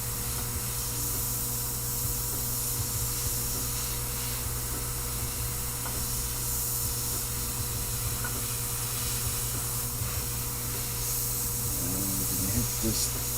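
An airbrush spraying black paint onto a screaming-skull artwork, a faint continuous airy hiss under a steady background hum, with a person talking at times.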